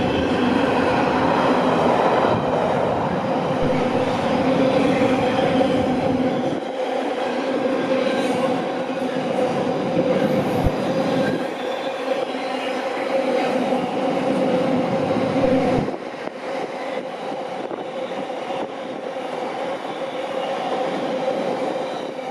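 A Freightliner freight train from Maritime terminal to Garston passes through Stafford station on the West Coast Main Line, loud close rumble of wagons with rhythmic wheel clatter and occasional squeal, continuing steadily then easing slightly.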